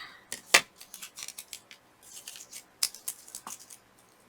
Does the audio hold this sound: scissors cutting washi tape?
yes